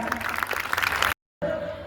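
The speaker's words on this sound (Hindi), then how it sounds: "पर भैया तालियां बजा दे" Audience applause after a Hindi speech, a dense patter of many hands clapping at moderate volume, breaking off abruptly into silence before a short stretch of noisy room sound.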